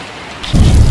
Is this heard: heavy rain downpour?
yes